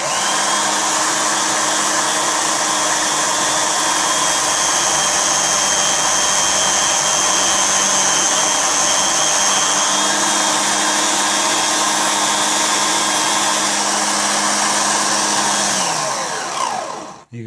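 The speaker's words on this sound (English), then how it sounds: "You can see my drill moving around a little bit there." A drill runs continuously while cutting a serration into a metal lock pin, giving a loud, steady high-pitched whine with a grinding edge, close up and without talk, then spinning down at the end.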